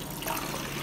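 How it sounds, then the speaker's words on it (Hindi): Water pours into a jug in a home kitchen, making a steady, close trickle and splash through the short moment before sugar is added for a shake. "अभी जो है किचन से उठाते हैं जग, और थोड़ा सा इसमें पानी ले लेते"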